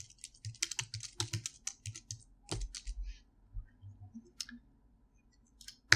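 Typing a dataset name on a computer keyboard: quick, close clicking keystrokes in irregular bursts with short pauses between them, quiet and alone.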